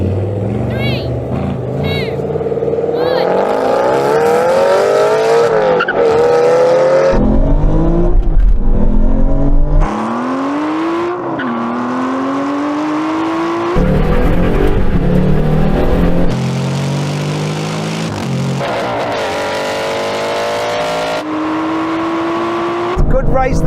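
An Aston Martin race car accelerating hard in a half-mile drag race from a first-gear roll-on, its engine note climbing in repeated rising sweeps through gear changes, loud and close throughout.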